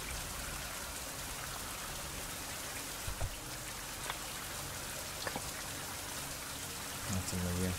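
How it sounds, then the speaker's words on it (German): Steady rainfall in the Fountain of Youth video game, a dense even hiss with a few faint knocks and taps, and a brief low sound near the end. "Im Regen."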